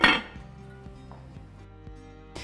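A metal lid set onto a pot of cream of broccoli soup, starting with a loud clanging hit, then a ringing metallic tone with a few soft taps, and a last brief knock.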